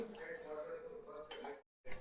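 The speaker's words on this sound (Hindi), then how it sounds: "पानी उबल जाए और तब तक बर्तन साफ कर लूँ।" Pots and dishes clink and rattle as they are washed in a home kitchen, with a steady background hiss of running water and a voice faintly underneath.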